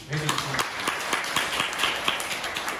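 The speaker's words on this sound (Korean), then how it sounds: "저는 여러분들 스스로 박수 쳤으면 좋겠어요." A sales seminar audience gives a round of light applause, a brief, scattered patter of claps from a small room with a voice briefly over the start.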